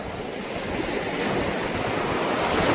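Steady surf washing onto a beach, a broad continuous rush of breaking waves with some wind noise on the microphone, rising slightly and holding loud throughout with no voices.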